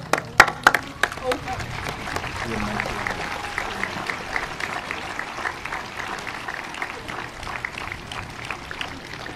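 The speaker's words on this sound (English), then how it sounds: "give your families a huge round of applause" Graduating class applauding their families at a high school graduation, with a few sharp claps up front giving way to a steady wash of crowd clapping, and voices murmuring underneath.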